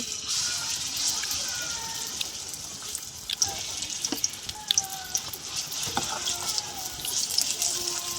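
Carrot and cauliflower paratha filling fries in oil in a wok with a continuous bright sizzle and scattered pops and clicks, and a voice speaks faintly beneath it.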